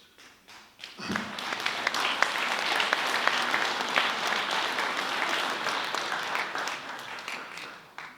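An audience breaks into applause during a mayor's New Year address, building quickly after a second into a dense, sustained wave of clapping that fades slightly toward the end.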